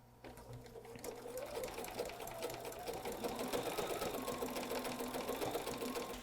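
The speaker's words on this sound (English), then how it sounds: "I'll let the needle hop back and forth left to right to join the strips together" A sewing machine stitches fabric strips together side by side with a back-and-forth zigzag, running as a steady fast mechanical whir close by after a short pause at the start.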